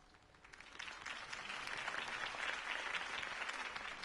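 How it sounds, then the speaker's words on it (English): A dense wash of crowd applause in Batman: The Telltale Series swells and holds steady throughout, many hands clapping at once with a bright, hissing texture. "If only Mr. Wayne, my campaign's largest backer, could have heard that applause"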